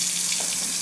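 Water gushes steadily from a newly installed Moen kitchen faucet into the sink, a close, loud, continuous hiss with no pauses.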